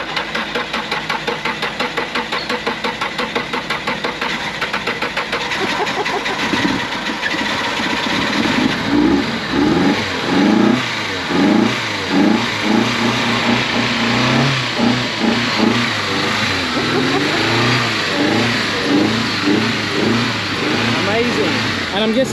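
A flood-damaged Nissan S13 engine cranks in rapid rhythmic turns, then catches and runs unevenly with repeated revs, loud and close in a workshop, while people talk over it.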